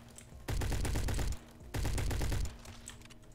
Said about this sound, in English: Someone just sniped me.